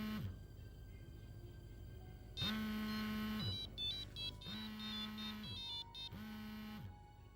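A telephone rings with a repeating electronic ringtone while a call is placed, sounding in three distinct bursts separated by short pauses, clear and fairly loud over a faint background.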